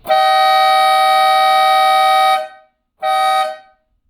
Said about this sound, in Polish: Tu są te nasze trąbki,